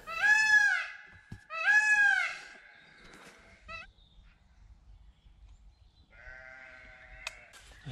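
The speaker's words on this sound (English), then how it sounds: "You can hear the peacock in the background." Peacock calling in the background outdoors during squirrel hunting: two loud wailing cries in quick succession, then a shorter call and a later thinner note, with faint rustling between.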